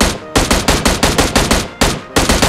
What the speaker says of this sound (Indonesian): aku mau iseng dulu ya, nembakin kendaraan sampai meledak pakai M16 baru.